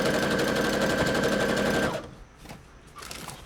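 A sewing machine stitches in a rapid, steady mechanical rattle for about two seconds, close and clear, then stops, leaving faint handling clicks and rustles.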